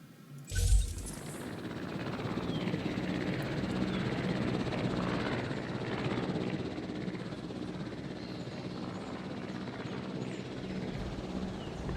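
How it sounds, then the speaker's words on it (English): In a video game, a helicopter flies past with a steady, loud rotor and engine drone that continues throughout, after a brief sharp thud near the start. "You have to wait for this helicopter to go out of bounds?"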